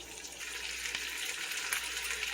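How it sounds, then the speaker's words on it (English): Food, with bacon set aside, fries in a pot for potato soup. A faint, steady sizzle and crackle continues alone, with a couple of small pops. "Okay, so this has been frying now for about 5 minutes."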